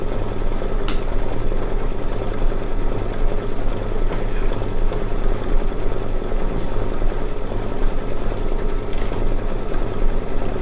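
A sewing machine stitches a quilt block, its motor running in a steady, continuous drone for the whole stretch with no pauses and no talking.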